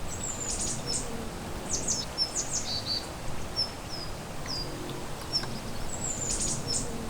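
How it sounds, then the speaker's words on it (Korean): A Daurian redstart gives repeated thin, high whistled calls at intervals against a steady outdoor background hum in a valley, fairly close and clear. "이 울음소리의 주인공은 바로 딱새."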